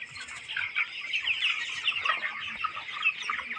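Young broiler chickens, about 1200 twenty-day-old birds, clucking and chirping together in a poultry shed, a dense continuous chatter of many overlapping calls at close range with no talking.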